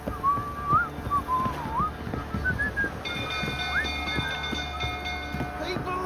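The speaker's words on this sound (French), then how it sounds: "Le mec il siffle." A man whistles a wavering tune in The Witcher III, with hoofbeats and ambient game noise underneath. A high sustained tone joins midway, and voices talk over it.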